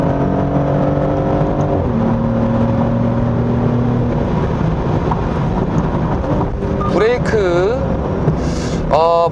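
Maserati GranTurismo Modena on the road, its engine and exhaust droning loudly and steadily close by with pitch shifts as it pulls, then someone speaking over the engine noise.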